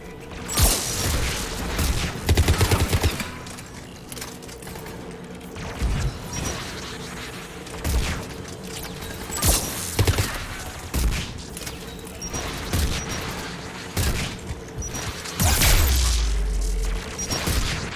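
Anti-aircraft gun firing in Mass Effect 3, heard as repeated heavy booming bursts and thuds scattered across a busy, continuous game soundscape with mechanical clatter.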